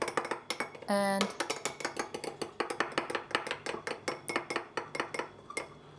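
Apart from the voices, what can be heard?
fork mixing egg yolks and lemon in a bowl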